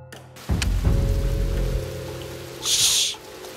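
Rain in the stealth game Shadow Tactics: Blades of the Shogun, a steady patter with deep low rumbling early on and a brief bright hiss of heavier drops near the end, no talk.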